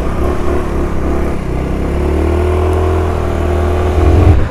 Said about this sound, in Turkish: Motorun diğer özelliklerini incelemek için sürüşe geçiyoruz arkadaşlar.